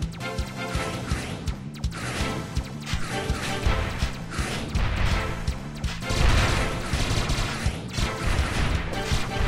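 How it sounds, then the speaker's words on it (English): Electric missile weapon firing in the Android space shooter Winwing: Space Shooter, a dense run of loud blasts and crashes layered over a driving game soundtrack, with no pause across the stretch. "Electric missile."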